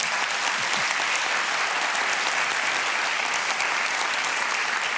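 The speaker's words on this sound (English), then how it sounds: "Catch them while they're clapping." A large audience at the Regional Scrum Gathering 2023 claps after a talk, producing a loud, dense and continuous wall of applause with no speech over it.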